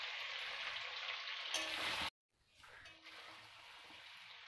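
Chicken curry being sautéed in a pan with a splash of water, a loud bubbling sizzle that cuts out abruptly, then returns softer and settles.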